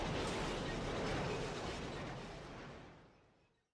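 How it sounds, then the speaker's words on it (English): A loud explosion at the end of a Resident Evil video game: a dense, broadband roar sounds alone and holds strong for about two seconds, then fades out over roughly a second and a half. "RE always ends in explosions?"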